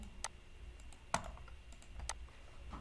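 A few scattered keystrokes on a computer keyboard while entering AutoCAD commands for a 2BHK floor plan, quiet and close with gaps between presses over a faint hum.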